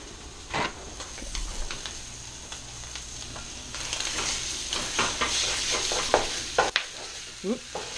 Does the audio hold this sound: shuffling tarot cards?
no